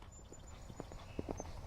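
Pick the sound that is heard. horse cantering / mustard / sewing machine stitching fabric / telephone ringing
horse cantering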